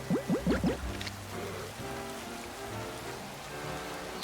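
Rain falls in Pokemon Legends: Z-A as a steady, soft hiss of drops on the ground, with no voices heard.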